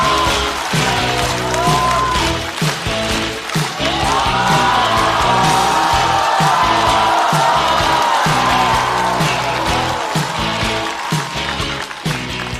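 A studio audience at a Chinese stand-up comedy show cheers and claps loudly and continuously, a dense roar of applause with whoops over music as a comedian is welcomed to the stage.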